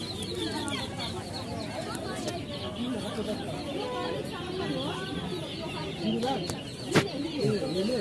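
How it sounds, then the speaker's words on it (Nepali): Busy poultry market din at Belbari bazaar in Nepal, with chickens clucking and birds calling throughout, mixed with crowd chatter, and a sharp louder call near the end. "कुखुरा बजार छ"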